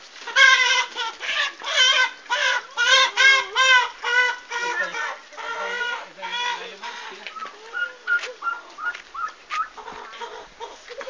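A loud, close chorus of farm birds, a rooster, turkey and ducks, crowing, clucking and squawking in overlapping bursts that thin out into scattered calls.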